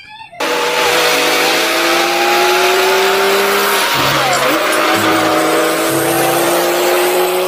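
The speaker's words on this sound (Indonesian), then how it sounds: "ada mobil truk towing membawa kendaraan" A tow truck hauling another vehicle drones loudly and steadily, with whining engine tones that dip briefly around the middle before resuming at full strength.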